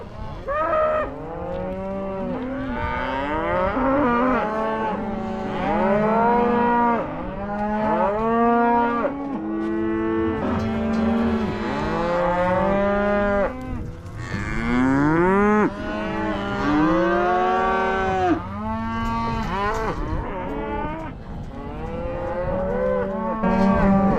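Cattle in a pen during the weaning of steer calves moo and bellow constantly, a dense chorus of overlapping loud calls close by and farther off, sustained throughout without talking.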